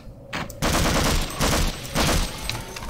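Automatic rifle fire from the video game Half-Life Source, loud rapid bursts in about three volleys, close and dense, with no talking.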